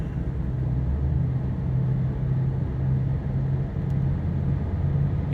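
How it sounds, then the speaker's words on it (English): A used car driven up to speed on a test drive gives a steady, continuous low engine and road rumble from inside the cabin, moderately loud and unbroken, with no talk. "So get the car up to speed."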